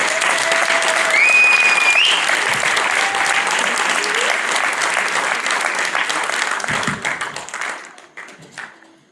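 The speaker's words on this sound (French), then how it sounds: "je vous demande de faire vraiment un tonnerre d'applaudissements pour Nastéo" A crowd at a France insoumise municipal election rally in Livry-Gargan bursts into loud, sustained applause with cheering, a dense wash of clapping that holds steady before thinning and fading out toward the end.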